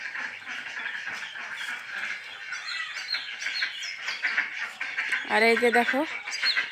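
Farm ducklings quack and peep at feeding time, a busy chorus of small bird calls with a louder burst near the end, while a person talks over them.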